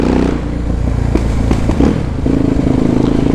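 Honda XR Tornado motorcycle fitted with a Belparts Classic exhaust, idling loud and close with steady engine rumble broken by irregular pops and crackles from the pipe.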